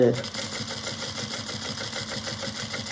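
Sewing machine running steadily while top stitching bag straps, an even mechanical whir and rapid needle ticking close up throughout.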